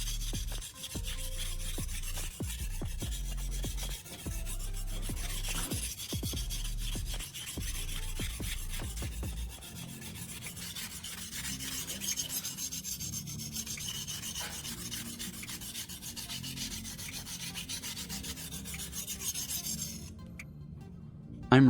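A knife blade is drawn in even heel-to-tip strokes across a wet whetstone with slurry built up, giving repeated close rasping scrapes that run rhythmically, then settle into a softer continuous grinding.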